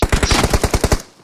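Automatic gunfire in a video game rattles out as a rapid burst of about eight sharp, loud, close shots in an even rhythm, then cuts off.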